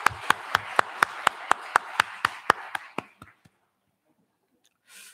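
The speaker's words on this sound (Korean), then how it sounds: "우리 박수로 환영하겠습니다" A church congregation welcomes a new member during Sunday morning worship with rhythmic, evenly spaced claps that quickly fade out and stop, leaving near silence before a faint rustle.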